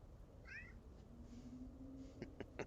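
A cat lets out one short, faint meow over a steady low room hum. A few soft clicks and taps follow near the end.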